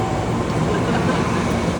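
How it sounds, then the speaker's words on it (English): Train waiting at a station platform just before boarding, a loud continuous rumble and broadband roar with no clear voices, cut off abruptly at the end. "Hey guys, about to get in the train."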